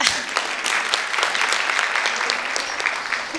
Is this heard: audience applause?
yes